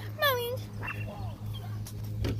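Dogs squabbling outdoors near a garden being spread with manure, with a sharp yelping whine and scattered yips and whimpers over a steady low hum, and people talking faintly in the background.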